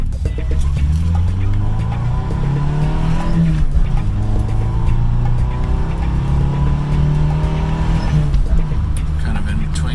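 A Toyota Starlet KP61 with the window down accelerates through the gears, the engine note climbing loud and near, then dropping at each shift and rising again.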